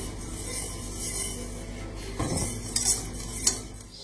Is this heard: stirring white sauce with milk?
yes